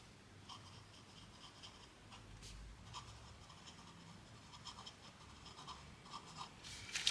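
A Lamy AL-Star fountain pen with a fine nib writes on paper, making faint, close, scratchy strokes in short bursts against a quiet room.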